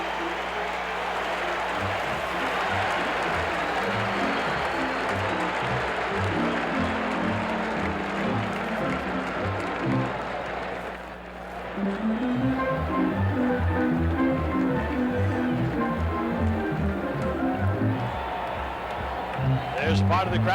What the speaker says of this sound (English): There's part of the crowd at Royal Stadium.